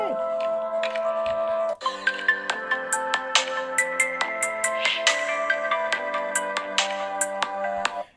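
A Samsung Galaxy Note 8 speaker plays a bright melodic intro tune, a series of plucked chiming notes in a steady rhythm, fairly near and clear with no talk over it.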